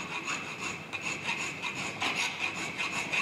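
A hand file scrapes a projection off the machine-cut side of a metal workpiece in a workshop fitting class, giving steady, rhythmic rasping strokes close by with no talk.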